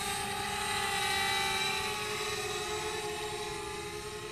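A DJI Spark drone hovers and flies with a steady high-pitched propeller whine and buzzing motor drone, continuous and fairly close, with no talking.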